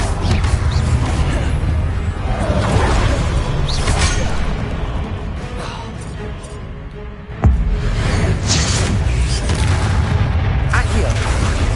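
Explosive blasting-spell booms from a Hogwarts video game, dense and loud throughout, with a sharp fresh impact around the middle and continuous rumbling combat noise.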